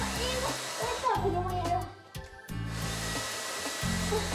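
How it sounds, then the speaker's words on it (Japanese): A hair dryer blows steadily at close range while drying a woman's fringe, with a brief drop in the airflow midway and faint talk underneath. "前髪から乾かしていきます"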